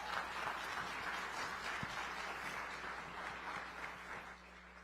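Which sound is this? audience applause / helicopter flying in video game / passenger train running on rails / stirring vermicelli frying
audience applause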